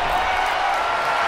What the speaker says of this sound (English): When you're in an atmosphere like this, where you can't hear yourself think because the crowd's so loud